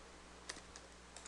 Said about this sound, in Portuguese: Eu estou digitando sem acento